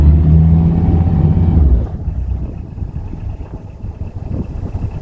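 A canal boat engine on the River Stort revving hard, loud and close, then dropping abruptly to a lower rumbling idle after about two seconds.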